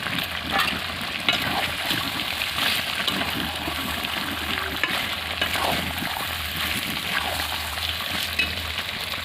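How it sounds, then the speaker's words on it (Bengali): Raw potato pieces frying in a pan with country chicken, giving a steady close sizzle with bubbling, watery spatter and occasional stirring knocks throughout. "এর মধ্যে আমি আলুটা ভেজে নিই, কাঁচা আলু দিলে বেশি টেস্ট লাগে"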